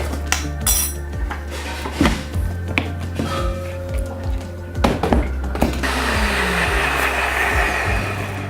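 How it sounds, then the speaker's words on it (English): Bulletproof coffee with ghee, MCT oil and a pinch of Himalayan salt whirs in a blender, with clinks and knocks first and then a steady loud motor roar in the last few seconds. "We do blend it in a blender so that the ghee does not float on top."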